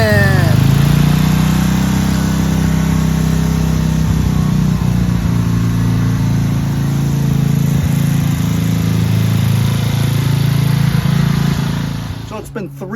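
Craftsman LT2500 riding lawn mower engine running as the tractor drives out of a garage, a steady droning mid-pitched hum held for most of the stretch, with a voice briefly audible and a change in tone near the end.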